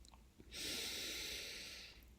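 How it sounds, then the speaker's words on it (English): A single long, steady exhale through the nose during a calm guided breathing exercise, close and soft, a smooth airy rush lasting over a second before fading out. "Exhale out your nose, whatever is comfortable for you."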